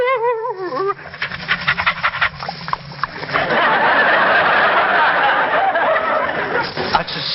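A man imitates a friendly dog with his voice for old-time radio, opening with a few whiny yelps and then moving into rapid, breathy panting and snuffling that grows louder and continues steadily to the end.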